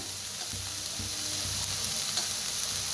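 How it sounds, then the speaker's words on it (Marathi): Chicken masala frying in oil in a village-style Maharashtrian curry, a constant close sizzle with a few soft stirring scrapes. "तर चांगलं भाजून घेऊया तेल सुटू तर"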